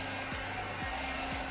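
A hot air styling brush with a built-in blow dryer fan whirs steadily and loudly close by, a continuous airy hum with faint periodic tonal sweeps.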